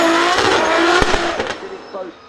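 Toyota Stout race car drifting with its tail kicked out at the Goodwood Festival of Speed, a loud close engine roar with tyre scrabble and a couple of sharp bangs, fading toward the end.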